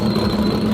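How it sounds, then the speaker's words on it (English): An American V8 engine with side-exit pipes, heard as a brief, loud, steady low rumble with a constant droning tone and no talking. "To me, that is what an American V8 should sound like."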